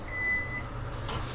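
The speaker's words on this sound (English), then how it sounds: "There's the buzzer." An oven timer buzzer sounds in a kitchen, giving one steady electronic tone for about half a second, followed by quiet room noise and a soft clatter.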